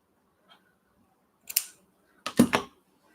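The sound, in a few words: scissors snipping fabric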